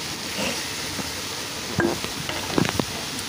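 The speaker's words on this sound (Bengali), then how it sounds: "এখন ফোড়নের মধ্যে চাল কুমড়োটাকে দিয়ে দিচ্ছি" Ash gourd pieces are dropped into a pan of frying spice tempering, giving a steady close sizzle with a few sharp clinks and stirring scrapes near the end.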